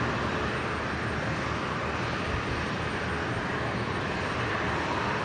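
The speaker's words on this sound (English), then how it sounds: "The New Zealand Dreamliner rolling." An Air New Zealand Boeing 787 Dreamliner rolls down the runway for takeoff at Brisbane airport, its engines a steady, loud broadband roar that holds evenly throughout with no voices.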